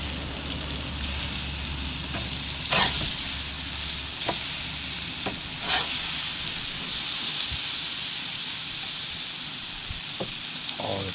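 Bacon cheeseburgers sizzle on a Charbroil grill in an RV just after flipping, a steady close hiss with a few sharp pops and scrapes over roughly eleven seconds, no talking.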